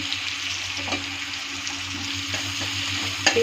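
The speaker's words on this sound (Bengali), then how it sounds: "এর মধ্যে জিরা ছেড়ে দিচ্ছি," Cumin seeds go into oil already frying chopped onion for soybean bhaji, and the pan gives a continuous close sizzle broken by a few soft stirring taps.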